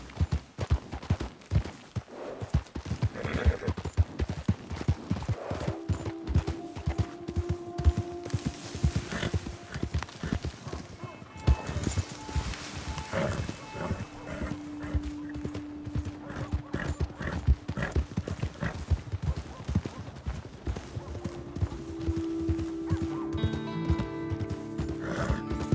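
Horse hooves clip-clop along at a steady, rapid pace in Red Dead Redemption 2, close and continuous, with a whinny and a snort mixed in over a soft game background.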